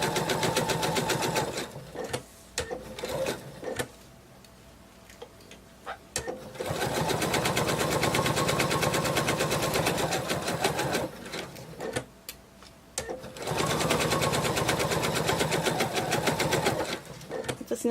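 A sewing machine stitches minky fabric around the fin of a whale shark plush, running in several loud sustained bursts with brief pauses between, close by.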